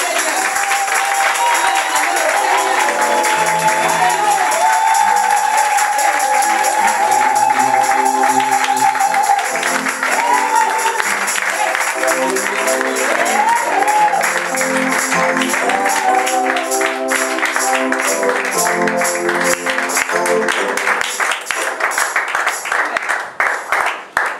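A church congregation claps and cheers in acclamation during a service, a loud sustained wash of applause mixed with raised voices and tones that carries on throughout and thins near the end.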